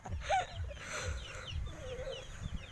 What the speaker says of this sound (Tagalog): Yan, nilaro ni Kisha ang manok